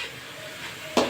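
Amaranth greens stirred and fried in oil in a pan give a soft steady sizzle with light scraping, ending in a louder stirring scrape near the close.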